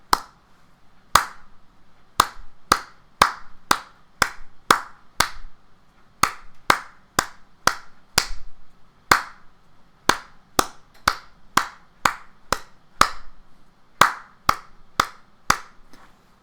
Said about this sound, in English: come and check to see if you're clapping the same as me afterwards